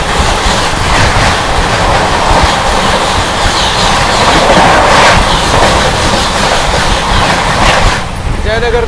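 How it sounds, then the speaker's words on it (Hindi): Swatantrata Senani Superfast Express from Jaynagar to New Delhi rushing past, a loud continuous roar with rhythmic clickety-clack of wheels over rail joints, cutting off near the end. "दोस्तों सामने से आ रही है जयनगर से चलकर नई दिल्ली की ओर जाने वाली स्वतंत्रता सेनानी सुपर फास्ट एक्सप्रेस"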